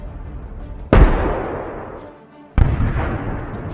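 An RPG round is fired at a Russian tank and strikes it in combat near Avdiivka: two loud, sharp blasts about one and a half seconds apart, each trailing off into a rumbling decay.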